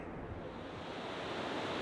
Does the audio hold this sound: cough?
no